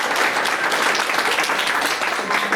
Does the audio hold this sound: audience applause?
yes